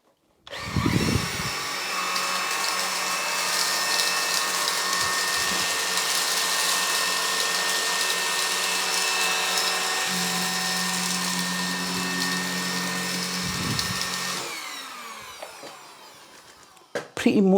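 Gtech Pro cordless bagged vacuum cleaner running on eco mode across a hard floor, a steady loud motor whine for about fourteen seconds that shifts slightly in pitch midway, then switches off and winds down.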